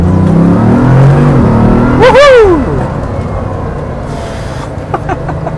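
A car accelerates hard in second gear to overtake a tractor, its loud engine rising in pitch with a sweeping rev that swells, then settles into a steadier drone.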